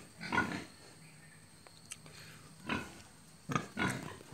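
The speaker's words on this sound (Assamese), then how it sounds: "তো এইখন হৈছে গাহৰি ফাৰ্ম।" Pigs on a pig farm in Assam give several low grunts and snorts at a moderate distance, spaced irregularly over a quiet background hum.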